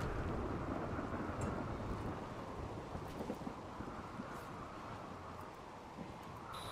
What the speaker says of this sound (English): a storm rumbles over Harriet's stretch of tropical rainforest